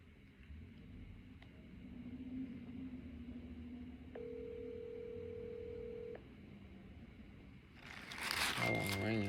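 A phone call's ringback tone, one steady electronic tone lasting about two seconds over a low rumble and background murmur, near and clear; a voice speaks briefly afterward.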